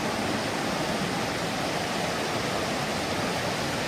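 Flowing stream water rushing steadily and close by at a bamboo-lined muddy bank, a constant broadband wash with no pauses or voices.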